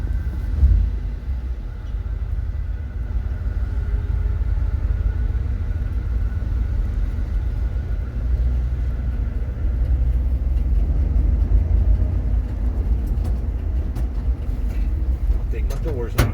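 A 1973 Ram 100 pickup truck driving on a mountain top, a constant loud low engine rumble and road drone heard from inside the cab, steady throughout with little change.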